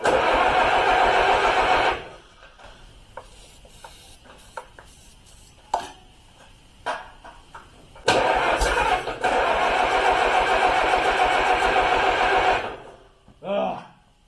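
An Allis Chalmers WD45 tractor engine cranks and roars loudly for about two seconds, drops to quiet clanks and ticks, then fires again in a long, steady, loud run before cutting out.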